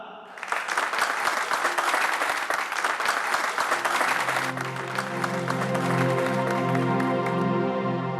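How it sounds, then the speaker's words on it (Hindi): An audience gives loud, sustained applause for a stage play called Biwi Ka Badla, a dense wash of many hands clapping at once, while musical tones swell in underneath toward the end. "तो एक बार जोरदार तालियां हो जाएं हमारे इस प्ले के लिए"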